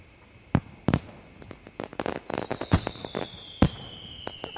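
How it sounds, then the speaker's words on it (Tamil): Sharp firecracker bangs burst at irregular intervals, a few loud cracks among smaller pops, with a faint whistling tone drifting in the background. "அக்கம் பக்கத்தில் இருக்கிறவங்களும் சந்தோஷமாக பட்டாசு வச்சு கொண்டாடின்னு இருந்தாங்க"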